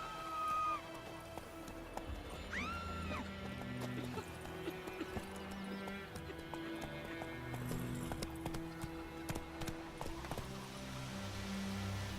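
Horse hooves galloping in the video game The Witcher 3, rapid rhythmic clip-clop running steadily over a low music bed, with a brief whinny early on, moderately near.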